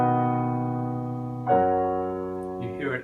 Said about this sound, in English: Plagal cadence might sound like this.